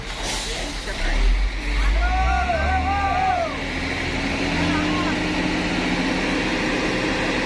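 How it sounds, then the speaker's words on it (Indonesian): A stuck truck's engine warming up, a steady low diesel rumble close by with a brief hiss, while people talk over it. "Antruk yang amblas sudah mulai memanaskan mesinnya"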